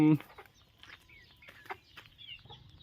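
Chickens cluck softly in short scattered bursts nearby, with a brief voice at the start.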